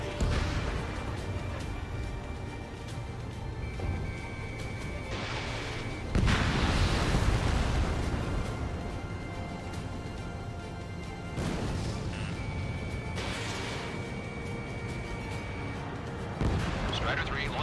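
Machine-gun fire and combat noise from the aerial combat game Ace Combat 7 come in repeated rattling bursts and heavy booms over a constant roar, with swells of louder fire at several points.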